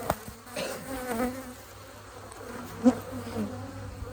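Honeybees buzz steadily around an open hive colony being inspected, a close, continuous insect drone with a few louder passes near the ear and faint handling knocks.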